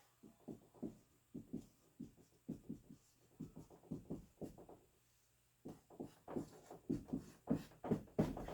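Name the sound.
writing out math equations by hand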